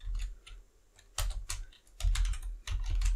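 Fingers type an ssh command on a computer keyboard in quick irregular bursts of close, clicky keystrokes with short pauses between them, with no talking.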